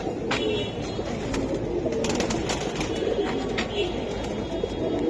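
Silver giribaz pigeons, a red-geared hen among them, coo in a steady low chorus close by, with scattered sharp clicks and faint background noise, and a voice briefly audible.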